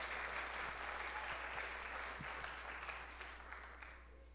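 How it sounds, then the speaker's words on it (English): A high school audience at a Teen Idol singing event applauds school staff and choral boosters with a broad, continuous patter of many hands, moderately distant over a low steady hum, slowly thinning toward the end. "So give them a round of applause."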